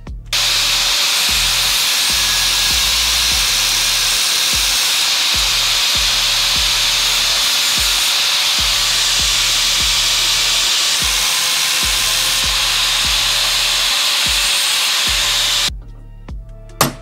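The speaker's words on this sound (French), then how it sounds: "Bah, allez, go perçage." A power drill bores out a seized exhaust manifold bolt on a BMW E46 330 with a loud, continuous whine and grind. The noise runs unbroken for about fifteen seconds, then cuts off abruptly.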